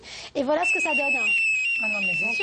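A bedwetting alarm, a stop-pipi device clipped to a child's underwear, rings with a steady high electronic tone held throughout, with people talking over it.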